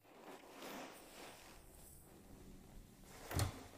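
Wooden wardrobe door in an abandoned mansion being shut, soft scraping and creaking movement ending in one short, sharp knock as it closes, faint and near, with no talk.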